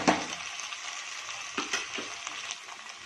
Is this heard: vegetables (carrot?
yes